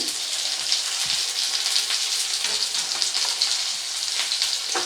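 Whole garlic cloves and chillies frying in hot oil for a dried-fish curry, a steady, dense sizzle with crackling pops throughout, close and fairly loud, with no talking.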